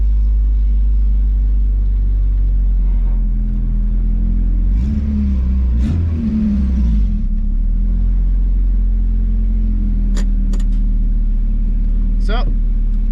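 Turbocharged Honda Civic EK with an eBay turbo kit driving, a loud low engine drone that swells briefly in the middle with a rise in revs, then settles to a steady hum, with a few high chirps near the end.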